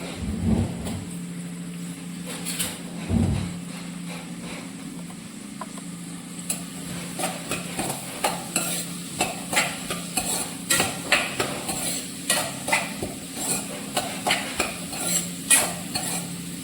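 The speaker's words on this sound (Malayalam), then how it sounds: "സവാള ഒന്ന് വാടിയതിന് ശേഷം നമുക്ക് ഇഞ്ചി വെളുത്തുള്ളി പേസ്റ്റ് ഇടാം." Onions frying in oil and being stirred in a pan, a low sizzle under a steady run of rhythmic scraping and clinking strokes from a spoon, growing busier toward the end.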